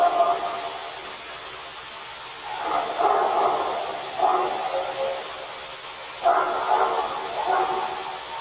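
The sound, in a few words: dog barking in a played recording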